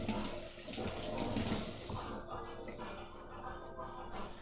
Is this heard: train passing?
no